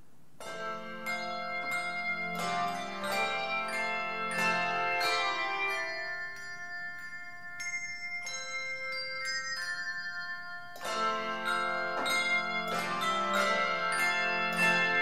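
A handbell choir rings at a home Christmas concert, a continuous stream of clear, sustained bell tones struck in melodic runs and chords, full and moderately loud, with no talking.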